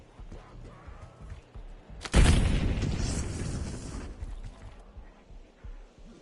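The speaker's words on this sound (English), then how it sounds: "Throwing frag." A frag grenade bursts in a zombies video game with one sudden loud boom, followed by a few seconds of rumbling debris and echo that gradually die away, with quiet game ambience before and after.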